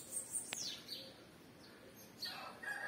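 A sparrow sings outdoors, giving faint, high, brief chirps and tweets scattered across a few seconds over quiet background ambience.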